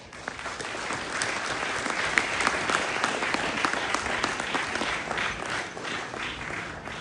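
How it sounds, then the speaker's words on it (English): A crowd at an event for the first Indian Sailing League breaks into steady applause, dense clapping held at an even level from start to finish without speech. "So let's have a round of applause for them."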